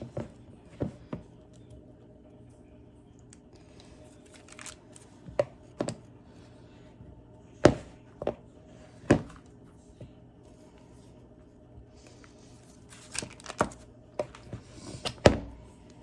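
A fork cuts cold butter into small chunks for homemade biscuits, giving sparse soft taps and thunks against a bowl, scattered irregularly with quiet gaps, then a cluster near the end.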